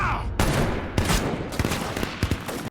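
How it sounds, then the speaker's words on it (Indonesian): A gunfight between three teams crackles with rapid overlapping shots and bursts, sharp loud cracks arriving irregularly in clusters against a noisy background. "terjadilah tembak-tembakan antara tiga tim tersebut"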